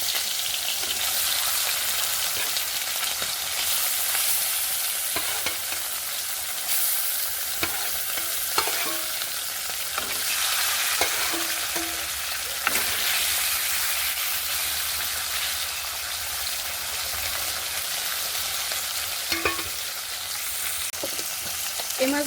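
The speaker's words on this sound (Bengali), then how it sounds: "আর যে মাছগুলো বাকি আছে ওই মাছগুলো ভাজার জন্য দিয়ে দেবো।" Fish fry in hot oil in a wok, giving a steady, busy sizzle with occasional light clinks of a utensil stirring, close up and without talk.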